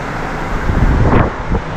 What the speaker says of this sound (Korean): 아, 에어컨 소리, 이게 아, 에어컨 소리야.